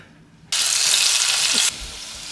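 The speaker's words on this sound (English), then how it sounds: "we're gonna try just an old classic fish fry with some Tonys. We got the oil heating up." Fish seasoned with Tony's drops into hot oil and bursts into a loud, bright sizzle that holds steady for about a second before dropping to a quieter crackle.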